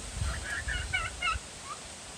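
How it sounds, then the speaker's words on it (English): A rooster on a homestead lets out a short, faint crow, a thin broken call at a distance over steady background hiss. "This rooster thinks he's all big and bad now he can crow"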